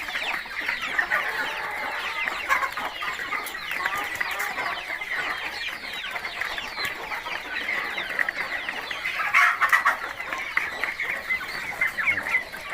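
Flock of nearly two hundred 2-3 month old chickens, a grey-feathered crossbreed, clucking continuously in a busy, dense chorus, close and steady with no talk.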